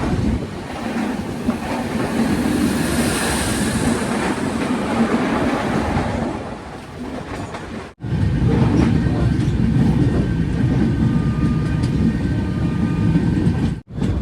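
A Ratnagiri–Diva passenger train rumbles loudly and steadily along the rails with a continuous low roar and rattling, briefly cut off before the same heavy rolling noise resumes.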